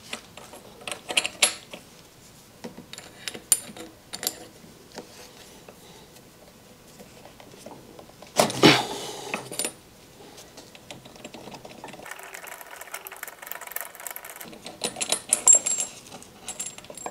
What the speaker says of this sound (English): Unscrew spark plug and then remove it.